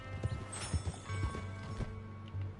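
Horse hooves clip-clop in a loose, uneven rhythm in Red Dead Redemption II, close and moderately loud over a steady low in-game ambient drone.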